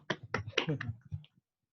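Zoom participants clapping for a teacher during an online pantun contest, a short burst of a handful of sharp, close, quiet claps in quick succession, trailing off within about a second.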